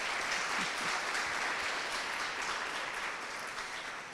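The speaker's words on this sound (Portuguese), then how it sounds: "Aplausos aqui para a nossa presentista." An audience at a masterclass applauds a speaker, a dense, continuous patter of many hands clapping at moderate level that holds steady and tapers slightly toward the end, with no voices over it.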